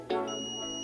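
A multimeter on continuity range beeps steadily while its probes rest on the normally closed 21-22 contact of a contactor; a near, sustained electronic tone with a faint click at its onset, no talk.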